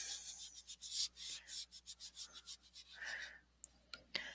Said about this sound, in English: You can also just dab and load up your ink pad and just rub